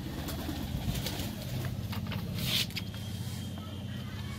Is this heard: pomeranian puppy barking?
no